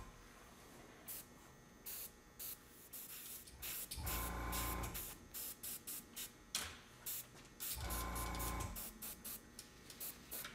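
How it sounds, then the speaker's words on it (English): An airbrush sprays paint for witch character makeup shading in short hissing bursts, with two longer, louder bursts and quieter intermittent puffs between them, heard close and with no talking. "A little shading with the airbrush here."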